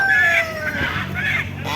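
Rooster crowing at a busy live animal market, loud and close, with a long harmonic call that rises and falls amid a steady din of other fowl and background noise.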